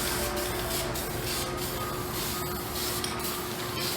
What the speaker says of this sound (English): I went heavy on some of the areas that needed extra paint, but it's covering up with a light coat